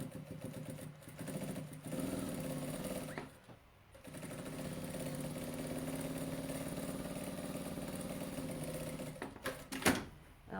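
A sewing machine runs a steady, whirring mechanical stitch while sewing both sides of a fabric project bag, close and continuous, with brief pauses and a few clunks near the start and the end.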